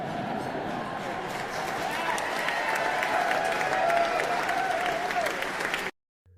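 Audience applause in Toronto following a lighthearted line from Prince Harry, a dense steady clapping from a large crowd lasting about six seconds before cutting off abruptly.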